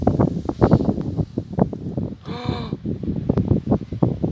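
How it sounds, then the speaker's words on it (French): Strong gusts of wind from a thunderstorm with a gust front roar steadily across an Alpine valley near Grenoble, the microphone buffeted continuously, with a brief tonal whine in the middle. "les rafales qui arrivent"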